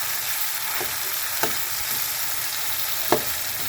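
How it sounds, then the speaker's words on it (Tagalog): Mung beans with smoked tinapa fish stirred in a pan give a steady, close frying hiss, broken by a few short scraping clicks of the spoon against the pan, with no voices. "Halutuin natin guys."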